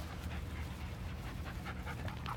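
A heeler and a hound lab mix, both shelter dogs, pant steadily and close by in a quick, breathy rhythm, with no talk over them.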